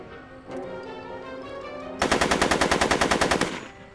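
Automatic gunfire from the Back to the Future video game: after a brief musical tone, a loud, close burst of rapid, evenly spaced shots rattles for about a second and a half, then stops abruptly.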